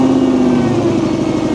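A project-fleet car's engine catches and runs roughly for a moment, a loud, steady mid-pitched drone with a low throbbing hum and no voices over it.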